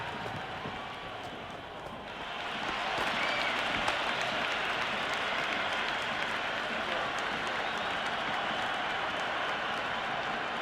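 A large cricket stadium crowd roars at an IPL match between Gujarat Titans and Punjab Kings, the noise swelling after two seconds into a sustained, far-off cheering wall with a commentator's voice faintly beneath.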